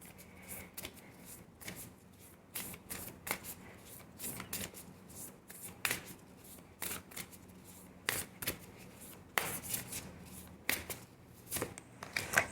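Tarot cards shuffled and drawn by hand, close-up and soft, with irregular riffling bursts and card snaps over a quiet background and no talking.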